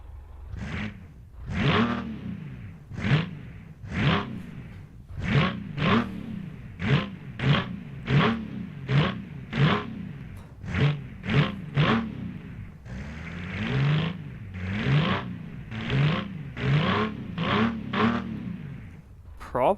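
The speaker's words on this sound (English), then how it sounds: "Probably one of the best V6s I've heard in a while." A V6 engine in the Automation car-building game revs repeatedly, climbing and dropping in pitch in quick surges with whooshing passes, moderately loud and steady throughout.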